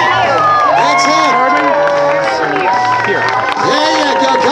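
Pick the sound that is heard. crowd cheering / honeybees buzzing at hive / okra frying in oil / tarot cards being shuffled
crowd cheering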